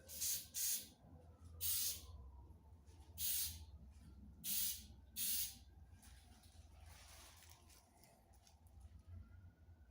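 A guitar body gets a super light clear coat from a spray can in short, separate bursts of hiss, about six quick sprays spaced over the first half, then quieter gaps with faint background hum.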